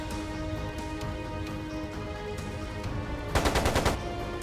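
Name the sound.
machine gun fire in the video game Trails of Cold Steel II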